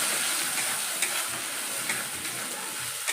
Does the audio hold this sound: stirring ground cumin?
yes